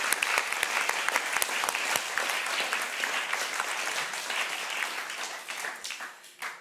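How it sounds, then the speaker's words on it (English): An audience at a panel discussion on women in culture claps for itself, a dense crackle of many hands with sharp individual claps standing out, holding steady for several seconds before thinning toward the end. "Give yourselves a round of applause."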